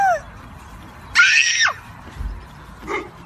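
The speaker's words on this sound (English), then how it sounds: "Listen to these two kids scream and cry when the Easter Bunny shows up." A child screams at the arrival of someone in an Easter Bunny costume, one sharp high-pitched shriek lasting under a second, followed by a fainter cry over quiet room noise.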